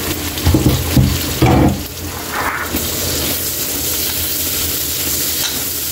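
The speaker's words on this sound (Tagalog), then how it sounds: "Pwede na Kaylee ilagay natin yung sibuyas at yung siling green para may anghang na." Sliced onion and green chili frying with tuna steak in a hot pan, a broad steady sizzle with louder stirring bursts early on, then an even crackle that fills the clip without talk.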